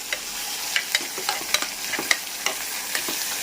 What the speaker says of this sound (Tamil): இப்போ அந்த வெங்காயம் வதக்கிறதுக்காக நம்ம உப்பு போட்டுக்கலாம் இப்போ இது நல்லா வதங்கட்டும்